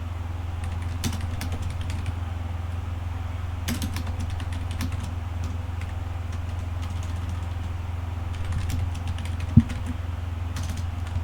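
Steady typing on a computer keyboard while writing C code for a Pthreads hello-world program, with irregular clusters of key taps over a loud, constant low hum, with no one speaking.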